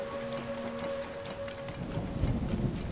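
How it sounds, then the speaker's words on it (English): Thunder and rain in the video game The Legend of Zelda: Tears of the Kingdom on stormy sky islands: steady rainfall with a faint tonal hum, swelling into a deep, heavy thunder rumble toward the end. "So it wouldn't surprise me if it's destined to rain and storm here."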